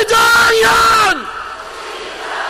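A Korean political rally crowd loudly shouting a politician's name in unison, a sustained chant that swells and then drops off sharply, leaving softer crowd murmur behind.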